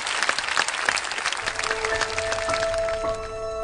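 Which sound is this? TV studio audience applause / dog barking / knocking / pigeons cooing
TV studio audience applause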